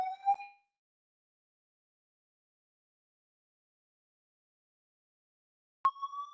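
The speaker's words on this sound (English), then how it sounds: "The alarm is going up." A building alarm sounds during a test: two short electronic tonal bursts, one at the start and another about six seconds later, separated by silence, clear and fairly strong.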